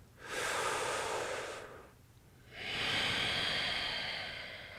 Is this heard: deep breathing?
yes